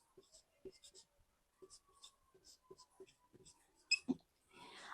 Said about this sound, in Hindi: रुकिए मैं लिखती हूँ यहाँ पे